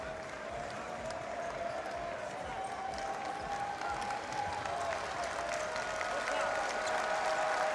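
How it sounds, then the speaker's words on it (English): Futsal players applaud their supporters after full time in Kaunas, Lithuania, steady sustained clapping from a crowd at an indoor arena, with a continuous tone running through and commentary voices under it. "They warmly applaud the supporters."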